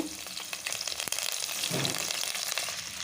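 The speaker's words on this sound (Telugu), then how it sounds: "ఇలా ఆయిల్ వేడైన తర్వాత ఇందులో అయితే జీలకర్ర అయితే యాడ్ చేసుకోవాలి" Cumin, garlic, green chilli and curry leaves frying in hot oil, a continuous loud sizzle with a sharp crackle burst midway as ingredients hit the pan, no talking.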